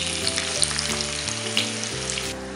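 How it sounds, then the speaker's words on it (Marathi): Thinly sliced onion fries in oil in a kadai, browning to a reddish colour, with a dense, steady sizzle under a low, shifting tonal hum. "त्यानंतर आपण हा जो पातळ चिरलेला कांदा आहे अगदी तांबूस रंगापर्यंत आपण त्याला फ्राय करून घेणार आहोत।"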